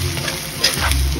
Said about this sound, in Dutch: Ga ik een beetje curry bakken erin, boeien.